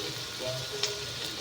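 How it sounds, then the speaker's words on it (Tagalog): Bopis being sautéed and stirred in a pan, with a steady soft sizzle of frying throughout and a brief clink of the utensil near the middle. "Kailangan haluin para maluto. Ginisa muna natin yan."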